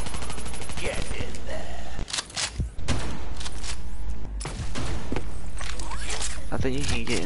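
Video game gunfire crackles in dense rapid bursts, broken by a short gap, then resumes over thuds and game effects while a voice talks over the action.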